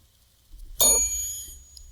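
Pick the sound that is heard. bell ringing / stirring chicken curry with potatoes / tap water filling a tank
bell ringing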